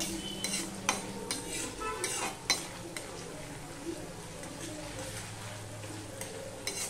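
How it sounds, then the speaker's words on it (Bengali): A metal spatula scrapes and clinks against an iron wok in irregular strokes, stirring thin-shredded potatoes over a steady sizzle of frying. "খুন্তি দিয়ে একটু নেড়ে নেড়ে দিচ্ছি যাতে একটার গায়ে একটা লেগে না যায়।"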